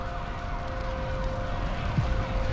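Ambulance siren in a cutscene of the video game Reverse: 1999, a steady wailing tone running throughout over a dense, noisy background, fairly loud and continuous.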